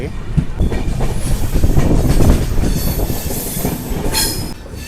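A train rumbles steadily along the tracks near Kalahasti station with rhythmic wheel clatter and occasional high metallic squeals, loud and close throughout; an express train, Visakhapatnam to Tirupati service number 18507.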